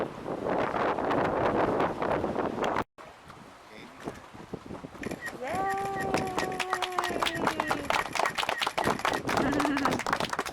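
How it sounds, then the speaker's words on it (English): Strong wind blows at a marina in Pensacola, roaring and buffeting against the microphone in loud, steady gusts. People talk under the rush. "What a windy day."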